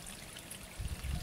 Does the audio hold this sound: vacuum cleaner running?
no